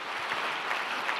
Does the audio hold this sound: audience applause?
yes